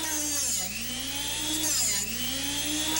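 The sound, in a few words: drill bit sharpener sharpening a masonry bit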